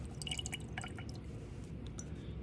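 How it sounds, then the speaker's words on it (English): Water drips and trickles while a microscope slide is rinsed in a lab, faint small splashes over a steady running hiss, without any speech. "Just give it a little rinse."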